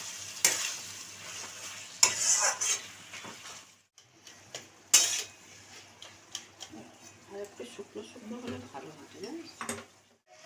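A fish-head curry being stirred in a pan gives off a soft sizzle, broken by clattering scrapes and knocks of the spoon in uneven bursts, with a few brief pauses and a faint voice in the background.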